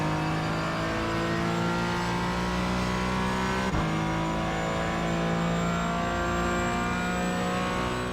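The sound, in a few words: Porsche Cayman GT4 engine accelerating in iRacing video game at Suzuka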